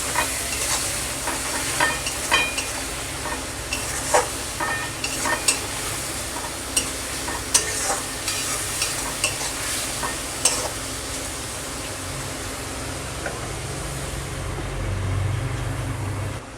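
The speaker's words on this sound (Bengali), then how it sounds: "আমি এবার আদা রসুন আর কাঁচা লঙ্কার পেস্টটা দিয়ে দেব, দিয়ে একটু নেড়ে চেড়ে আবার ঢাকা দেব।" Ginger, garlic and green chili paste is stirred into mutton frying in oil, with a steady sizzle under repeated scraping and clinking of a spoon against the pan.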